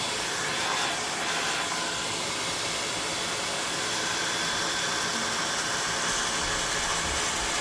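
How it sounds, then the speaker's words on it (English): A very old hair dryer runs steadily throughout, a continuous broadband whirring blow with no pauses, close and fairly loud, with no talking. "very old hair dryer"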